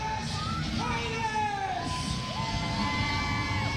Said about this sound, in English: Absolutely, in this capacity crowd here in Stratford, Prince Edward Island, applauding Titus as he waves the Maple Leaf around the ring.